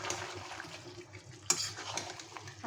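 Bogura potatoes are stirred into pigeon meat curry in a pot, a soft, brief wet scraping and shuffling with a light clack partway through.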